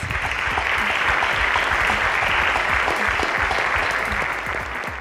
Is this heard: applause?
yes